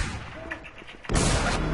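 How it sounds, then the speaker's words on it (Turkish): A pump shotgun blast in the video game RigorZ strikes the player, a sudden loud boom that cuts in after a second of quieter game ambience and stays dense to the end. "pompalıyla vurdu bizi"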